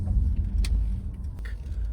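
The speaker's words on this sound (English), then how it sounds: "let this car behind me go past" A car moving past on a quiet town road, with a low rumble close by that swells and fades over a couple of seconds, steady and without voices.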